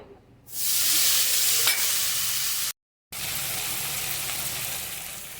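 Chopped tomato hits a hot pan with mustard-poppy pabda fish and bursts into a loud, steady, hissing sizzle that carries on close by, cut by one brief silent gap before resuming.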